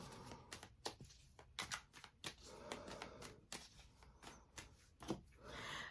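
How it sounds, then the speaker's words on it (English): Tarot cards riffled and shuffled in quick bursts of crisp, papery flutters with brief pauses between, close and fairly quiet, no talking. "So let me shuffle the cards for Cancer"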